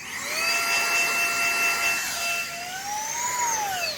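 An air blower dusts off a freshly cast resin piece from a cascade tray mold, giving a steady, loud, close whining hum whose pitch bends upward near the end.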